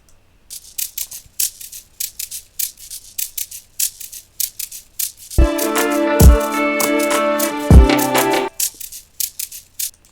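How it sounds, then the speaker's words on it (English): A crisp shaker ticks in a quick, steady rhythm, joined midway by a few seconds of sustained chords with punchy low hits before the shaker continues alone. "but the shaker sound like this"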